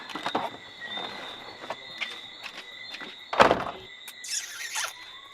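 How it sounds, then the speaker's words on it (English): A door being handled in a Jamaican comedy scene, with a sharp squeal and a loud thunk of it shutting midway, followed by a brief bright creak. "a girl come slam man door"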